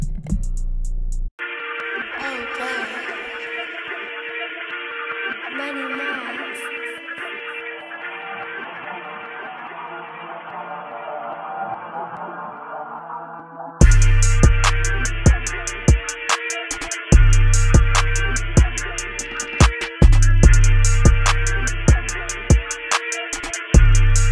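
A hip hop beat plays: a soft melodic intro with sustained synth tones, then heavy kick drums and crisp hi-hats drop in with a steady, punchy rhythm.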